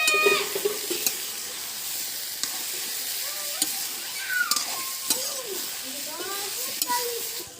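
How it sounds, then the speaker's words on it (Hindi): Vegetables frying in oil in a home kitchen, a continuous close sizzle with occasional stirring knocks, while a voice sounds faintly in the background. "तेल बने भूंज लेबो।"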